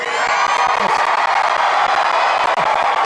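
A large crowd at a Trump rally in Greensboro, North Carolina cheers continuously, a dense, loud roar of voices with whoops and shouts, no speech standing out above it.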